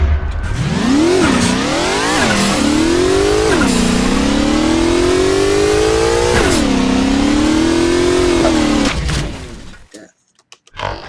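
A 1973 Daytona Charger in Garry's Mod revs loudly and repeatedly, its engine note climbing and dropping in several surges before cutting off abruptly into near silence, with a faint sound at the very end.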